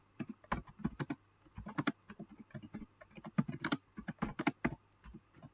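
Typing on a computer keyboard to write a thank-you message, a quick rhythmic run of key clicks in uneven bursts, close and fairly quiet, with no talking.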